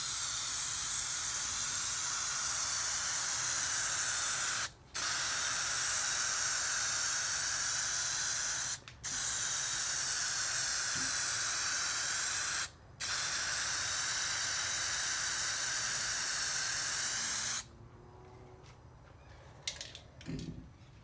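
Aerosol spray paint hissing loudly and steadily up close as a coat goes onto a 1989 Nissan Patrol, four long bursts broken by short gaps, then quieter handling noises.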